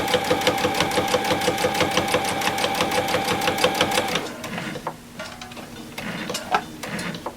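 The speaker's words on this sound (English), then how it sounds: "So I'm just going to sew until I get down to that line." A sewing machine stitches a quilted Christmas tree snack pad, running in a fast, steady mechanical rhythm for about four seconds before stopping, followed by quieter handling and rustling of fabric.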